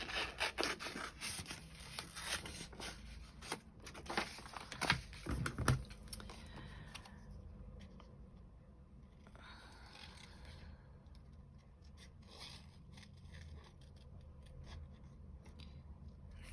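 Scissors fussy cut a paper stocking shape, with close, irregular snips and paper rustling, busiest in the first few seconds and then continuing more quietly with scattered small cuts.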